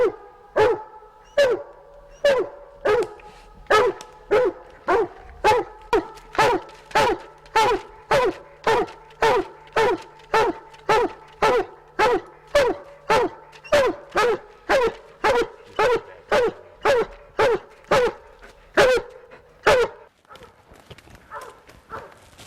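A hunting dog barks at an animal up in a tree, with a long unbroken run of loud, evenly spaced barks, about one every half second. The barking stops abruptly near the end.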